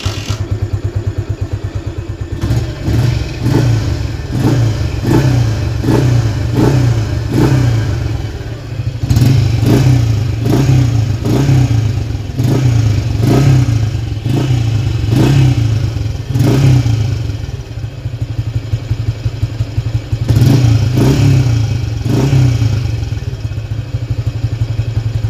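A carbureted motorcycle engine, not run for three years, sputters to life and revs repeatedly in rhythmic bursts, loud and close, with clattering mechanical noise.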